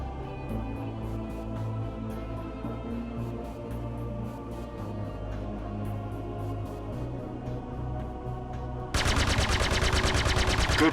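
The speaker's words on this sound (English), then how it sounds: "Now your weapons are online. Line up your target and fire when you're ready." Spaceship weapons fire at a target in the space game Star Citizen: a dense, steady stream of rapid shots running the whole time over engine rumble, turning into a louder, harsher burst near the end.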